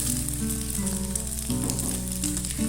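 Cut long beans go into a hot pan over a raised flame and sizzle loudly and continuously up close, with a faint steady tone running underneath.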